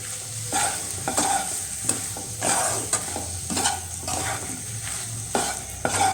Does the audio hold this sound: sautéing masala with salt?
yes